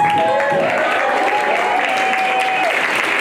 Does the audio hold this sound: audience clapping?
yes